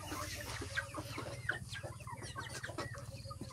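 Chickens cluck in a backyard coop, soft overlapping clucks and short calls repeating close by over a steady low hum, with no voices.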